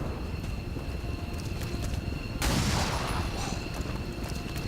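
Pistol shots in the tactical video game XCOM 2: a sudden loud burst of gunfire about halfway through, standing out over a steady hum of game ambience.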